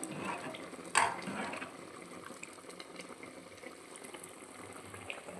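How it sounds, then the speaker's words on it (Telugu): Chicken dum biryani rice simmering in a pot, a soft continuous bubbling and hiss at low level with one brief clink near the start, no talking. "ఇక్కడైతే ఇది ఉడుకుతా ఉంది, ఇంకా చాలా ఉడకల్లా"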